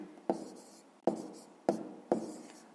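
A pen writes out a maths solution in four quick, distinct strokes at a steady rhythm, close and quiet, each a brief scratch that fades.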